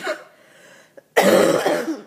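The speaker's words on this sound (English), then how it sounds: "am so sorry about these coughs" A single loud cough bursts out after a faint breath and a brief pause, close and harsh, dying away with a rough rasp.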